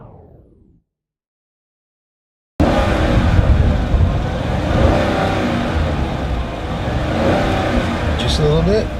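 A 2015 Chevy Silverado with a 6.2L V8 launches after being held at about 2,000 RPM, its engine roar rising loud and steady after a brief silence and carrying on strongly to the end, with talk over it.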